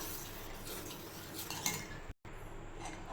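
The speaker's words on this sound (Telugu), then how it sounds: "ఇలా కలుపుతూ ఉండండి, లేదంటే మీగడ కడుతుంది మీద." Fruit custard being stirred with a spoon in a pan over low heat, giving steady soft scraping and light clinks of metal against the pan, close and continuous with a brief silent gap.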